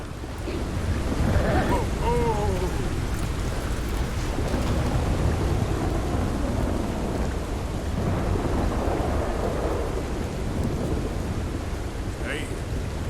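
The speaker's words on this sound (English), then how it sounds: "I love how this storm came on simply because I rode into a branch." Thunderstorm in Red Dead Redemption II: steady heavy rain hisses throughout with low rolling thunder rumbles, loud and continuous for the whole stretch, with faint game sounds mixed in.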